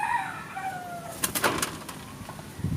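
A pigeon calls with a few soft, clear notes, followed by a brief burst of close wing flapping and rustling. Another faint low coo comes near the end.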